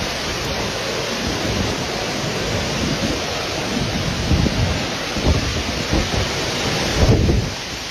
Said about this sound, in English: Heavy rains and strong winds lashed Vietnam's central coast Monday